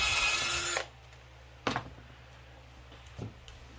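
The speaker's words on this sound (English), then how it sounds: "I'll just drill my first pilot hole" A power drill boring a pilot hole through a wooden picket fence board, a loud whirring burst that cuts off abruptly, followed by a couple of faint knocks in a quiet room.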